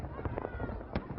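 Fireworks bursting over Pyongyang at a celebration of the leader's birthday, a string of sharp pops and crackles, with one louder bang near the end, under a voice speaking throughout.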